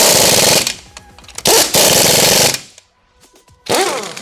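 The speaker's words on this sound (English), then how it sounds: "And then we'll tighten it up with the impact." An impact wrench tightens the blade bar bolts on a Twister floor scraper. It fires in loud, close, rattling bursts with a brief quiet gap between them.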